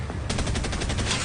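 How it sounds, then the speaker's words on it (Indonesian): A World War II American fighter aircraft fires its single 20 mm cannon and .50 caliber machine guns in an air battle with Soviet planes, heard as a short, dense, loud burst of rapid rattling gunfire. "menembakkan meriam 20 mili tunggalnya dan senapan mesin kaliber 50"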